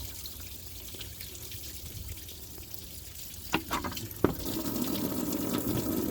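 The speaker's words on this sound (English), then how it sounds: "I got a pan under there catching the coolant." Coolant from a Duramax engine runs into a drain pan as a soft, steady trickle, with a couple of sharp clunks, then a fuller, louder pour.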